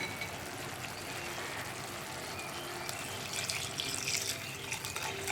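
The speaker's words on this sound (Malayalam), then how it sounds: "ഇതിലേക്ക് നമുക്ക് തേങ്ങാപ്പാൽ ചേർക്കാം." Coconut milk being poured into a boiling raw plantain curry gravy with kudampuli gives a soft, steady stream of liquid pouring and bubbling, fairly faint and uninterrupted, with no talking.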